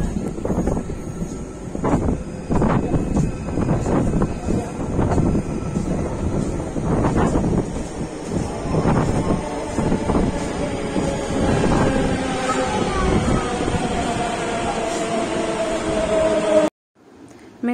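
A Delhi metro train arriving at the station, with a loud rumbling roar and rhythmic rattling thumps that settle into a rising whine as it slows. The sound cuts off abruptly at the end.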